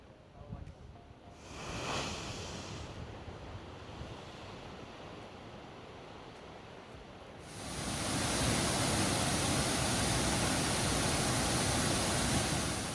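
Ocean surf rumbles steadily, then a louder surge of water rushes in and roars broadband, a wave forcing through a rock blowhole and spraying out, on Upolu Island, Samoa.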